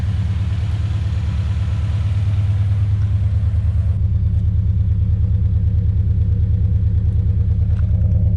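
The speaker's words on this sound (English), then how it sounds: "Yeah, this thing is definitely on a cold start." A drift car engine on a cold start idles in a loud, steady, lumpy rumble close by, its pulsing firing rhythm continuing throughout with a slight change in tone partway through.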